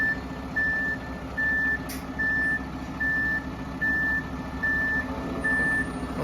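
Delivery truck backing up near a home workshop, its reversing alarm sounding eight steady, evenly spaced beeps over a constant low diesel engine rumble, loud and fairly close, no talking.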